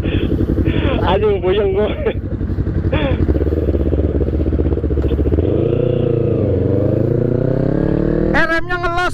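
Kawasaki ZX-25 class motorcycles race past at Sentul circuit, their high-revving engines rising and falling in pitch under loud, excited talk close by.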